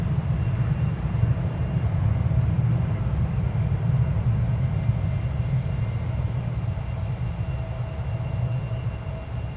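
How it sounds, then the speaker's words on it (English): American Airlines jet departing DFW Airport for Las Vegas: a dense, continuous low rumble of engines at takeoff power, fairly loud and steady throughout, with no voices on top. "American Flight 2864 to Las Vegas is blasting off right now"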